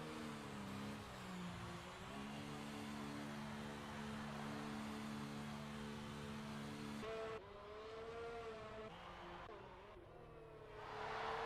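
A race car on wet tires in a racing video game, the engine droning with steady harmonic pitch, shifting and rising and falling as it drives back toward the pits, close and continuous.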